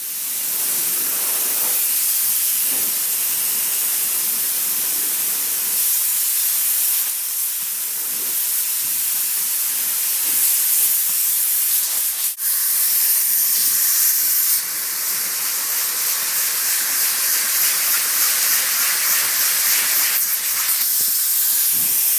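A loud, continuous spraying hiss runs steadily throughout, bright and close, with brief shifts in intensity and no talking.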